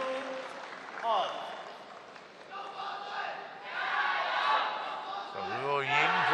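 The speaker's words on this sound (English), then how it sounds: "That is greeted with celebration in the crowd." A large crowd at a badminton women's doubles final roars and cheers in a swelling wash of noise, with a commentator speaking over it throughout.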